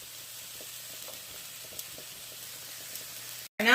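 Meat browning in a pan for ramen gives a soft, steady sizzle with faint scattered ticks, fairly quiet and close, before an abrupt cut into a louder burst at the end.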